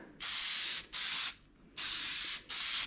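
Rust converter sprayed in four bursts onto the trunk lid of a 1951 Chevy Deluxe. Each hissing blast runs under a second, with short pauses between them, and the sound is close and steady, with no talk.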